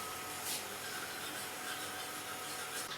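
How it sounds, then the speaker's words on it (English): A whisk scrapes continuously around a pan of thickening white sauce, a steady soft rasping and swishing close by with no talking. "keep whisking your sauce in between"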